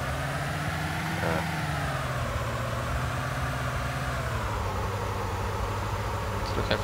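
A car engine in the Arma 2 Wasteland mode runs steadily as a low, continuous drone through the whole stretch, with faint voices mixed beneath it.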